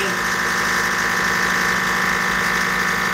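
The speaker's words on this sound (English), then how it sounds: "Okay, shut the pump off." Vacuum pump running steadily and loudly while pulling vacuum on a brake booster under test, a continuous mechanical hum with a faint voice in the background.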